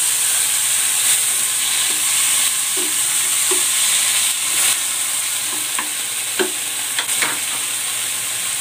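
Chopped onion and tomato hissing in a hot frying pan, a loud continuous sizzle close up, broken by a few soft scrapes and stirring clicks, no voices.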